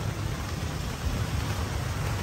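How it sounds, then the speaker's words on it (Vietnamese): Heavy rain pours down in a steady dense wash of noise, loud and close with no pauses. "Mưa quá trời mưa luôn quý vị ơi"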